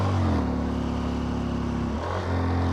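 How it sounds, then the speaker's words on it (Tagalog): A motorcycle engine drones steadily as it climbs a steep road uphill, then the pitch dips briefly at a gear change before the engine pulls again. "Atong sulayan ang capacity sa atong motor."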